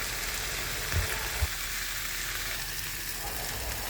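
Fish pieces fry in a pan, giving a steady close sizzle with a couple of soft knocks as they are turned, and no voices.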